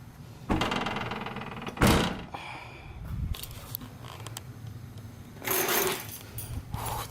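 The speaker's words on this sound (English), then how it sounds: "Let's close the trunk" A car trunk on a Subaru fitted with new SubiSpeed Evolution tail lights is shut, with a few sharp thuds and clunks close by, the loudest near the start and another later, over faint background noise.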